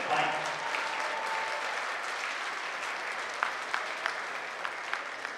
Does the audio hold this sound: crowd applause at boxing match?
yes